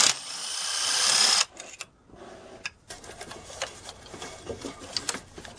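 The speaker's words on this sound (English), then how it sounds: "Unscrew the reservoir here." Unscrewing the reservoir on an S197 Ford Mustang, a whirring power driver burst for over a second, then quiet clicks and light handling rattles under the hood.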